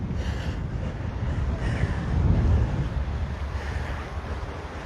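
Strong wind roars steadily across the microphone at Sharks Cove beach in Hawaii, a dense rushing buffet that swells briefly in the middle, with no voices.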